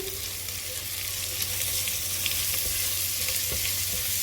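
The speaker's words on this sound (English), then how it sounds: "fry the onion" Onion with salt fries in a pan, a continuous even sizzle with faint crackles and the odd stir, steady and close throughout with no voices.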